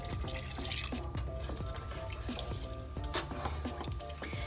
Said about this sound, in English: Now we're going to add a cup of just plain water.